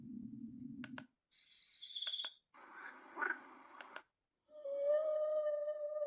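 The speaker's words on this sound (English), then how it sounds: "Whales." Whale song from a bedside white noise machine with alarm clock, heard after the device steps through several other sounds with button clicks in between. It ends as a sustained, wavering tonal moan that is close and moderately loud.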